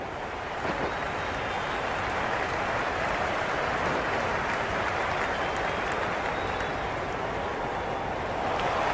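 A packed stadium crowd in the Cricket 26 video game roars and cheers in a dense, continuous wall of noise that holds steady throughout without any clear talk on top.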